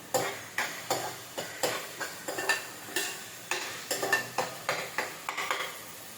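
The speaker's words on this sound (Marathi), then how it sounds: "पहिला कांदा परतून घ्यायचा चांगला" Onion sautéing in a pan with crushed garlic, stirred in a steady rhythm of close, regular scraping strokes over a soft sizzle, with no talk.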